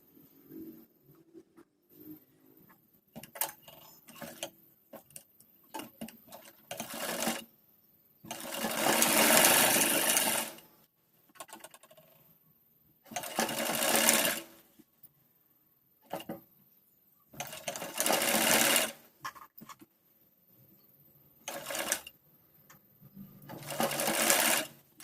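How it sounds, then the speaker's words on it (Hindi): A sewing machine stitches a kurti in a series of bursts, some short and some several seconds long, with quiet pauses between runs. "चलिए सिलाई डाल के बताती हूँ।"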